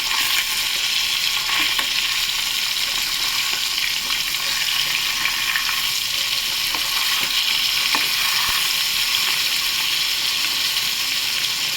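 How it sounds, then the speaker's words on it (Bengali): Hilsa fish sizzles steadily in hot oil with black cumin in a pan, a continuous close, loud crackling fry with faint stirring ticks throughout and no talking. "মানে এরকমভাবে ভাজাতে হবে, ঠিক একদম ভালোভাবে ভাজা না হবে।"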